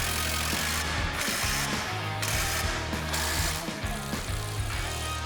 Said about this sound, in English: we're gonna get a 19 millimeter and snug these down